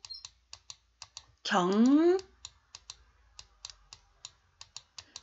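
Sharp mouse clicks repeat at an irregular pace, close and crisp, interrupted briefly by a short spoken syllable.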